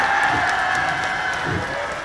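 Audience applause at a festival celebration stage for the Mungyeong Omija Festival, steady crowd clapping and light cheering that holds throughout at a moderate, even level.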